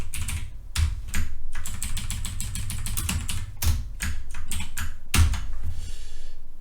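Someone types an SQL query on a computer keyboard, producing rapid close clicking keystrokes in quick runs with a few heavier thumps, all continuous and without speech.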